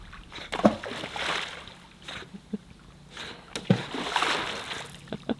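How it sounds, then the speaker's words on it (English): Ollie the dog swims at a boat anchorage in the North Channel, with intermittent splashes and sloshing water, a few sharper splatters standing out over a low watery background. "but Ollie is swimming"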